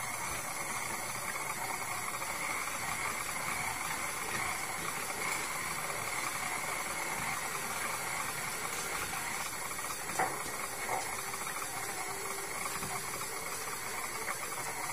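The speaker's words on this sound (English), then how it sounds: "While the machine is kneading the dough" A kitchen machine kneads calzone dough with a continuous mechanical whir and hum, steady throughout with a few small knocks.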